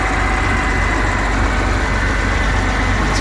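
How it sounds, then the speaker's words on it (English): A 1989 Volvo FL10 truck with an intercooled 10-litre, 320 horsepower diesel idles nearby, a loud, steady low rumble with an even throb and no talk over it. "it's a 320 brake horsepower, 320 brake horse, Volvo 10 litre engine, intercooled."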